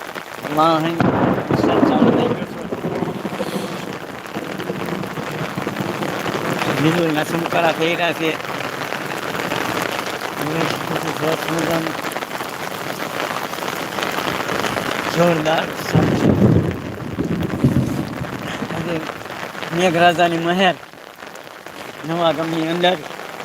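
Heavy rain pours steadily with low thunder rumbling, while a voice talks over the downpour.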